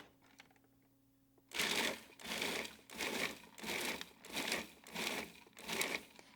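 A food processor pulses chopped dates and pecan pieces in six short, loud bursts, each a grinding whirr with a brief gap between, after a quiet start.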